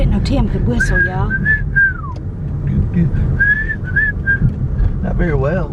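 A man whistles a short, halting tune outdoors in rural Georgia, clear melodic phrases broken by pauses, with wind rumble and some talk in the background.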